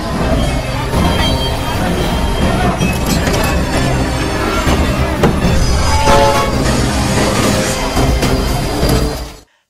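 A train rumbles along loudly and steadily, with metallic clinks and rattles over a continuous low roar.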